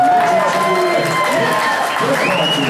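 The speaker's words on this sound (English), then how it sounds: "the applause for Breslin, Breslin." A crowd applauds and cheers for the wrestler Breslin after a 165-pound championship bout announcement, steady clapping with a loud announcer voice ringing over it through the whole stretch.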